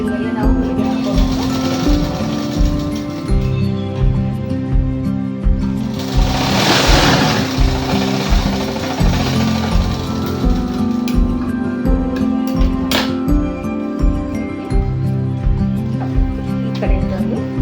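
A sewing machine stitches the side seam of a blouse with fast, regular mechanical thumping that runs steadily throughout. Someone talks over it.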